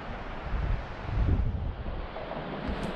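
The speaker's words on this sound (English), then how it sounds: "Because you got a stiff wind coming through here" Stiff wind blowing outdoors while a DJI Mavic Air 2 drone takes off, a loud rumbling gusty roar buffeting the microphone and swelling then easing, with no talk.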